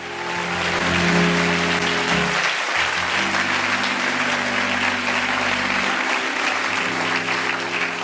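A church congregation applauds and cheers during a French-language worship service, a dense, loud roar of clapping that swells and holds steady throughout, with some voices mixed in.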